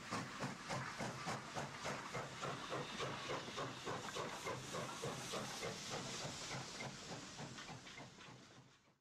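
Chesapeake and Ohio 2716, a steam locomotive, vents steam in a loud, close hiss with a rhythmic chuffing pulse, steady throughout before fading at the end.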